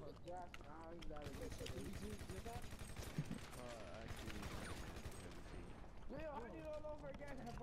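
Rapid, continuous gunfire in GTA Online, dense bursts of shots rattling throughout, mixed with loud voices talking over the action.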